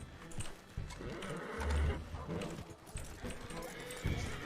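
A horse outside the sheriff's office in the RedM roleplay game: hooves clopping near and a whinny over the general outdoor ambience.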